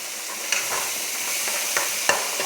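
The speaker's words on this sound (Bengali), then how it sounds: "কষিয়ে নিই।" Curry for dhokar dalna being stirred and fried in a pan, with a steady close sizzle and occasional sharp scrapes of the spoon against the pan.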